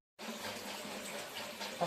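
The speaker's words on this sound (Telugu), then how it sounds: "ఫస్ట్ వాటర్ పడతాం." Water gushes steadily from a tap onto raw chicken in a sink, starting abruptly and running continuously at moderate volume with a splashy, hissing texture.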